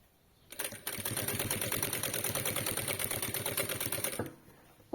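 A sewing machine runs steadily for about four seconds, its rapid, even needle clatter close and loud as it stitches along a quilt binding, starting and stopping cleanly.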